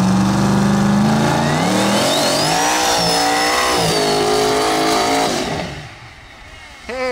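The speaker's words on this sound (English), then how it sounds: "First burnout in forever." Drag car burnout: the engine revs hard and climbs in pitch while the tires squeal loudly for several seconds, then the sound cuts off abruptly into a quieter idle.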